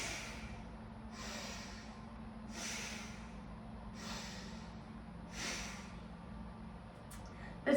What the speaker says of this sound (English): Inhaling and closing on the exhales. Again, moving in and out the nose.